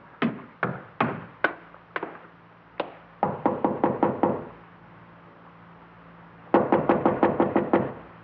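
Knocking on a wooden door in a radio drama, in sharp bursts of knuckle raps: a few spaced knocks, then a quick run of five or six, a pause, and another rapid series, close and alone.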